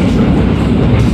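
A passing KA Sawunggalih passenger train on an Indonesian rail line, a steady loud rumble of wheels and cars rolling by close at hand throughout, with no voices.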